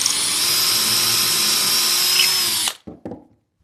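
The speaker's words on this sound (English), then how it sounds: "then we'll drill it" A power drill drilling into wood whines loudly and steadily for a couple of seconds, then stops abruptly, followed by a few brief clunks.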